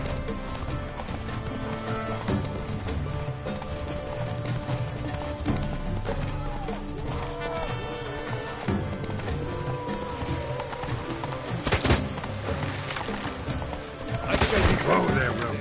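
Horse Roach galloping in the video game Witcher 3, with rapid hoofbeat clip-clop under game sounds and a few louder thuds and clatters toward the end.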